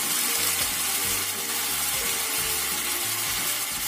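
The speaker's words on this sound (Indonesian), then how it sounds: "Kita masak sampai matang ayamnya ini." Steady, loud sizzling of chicken frying in a pan with oyster sauce, continuous throughout, with faint low tones underneath.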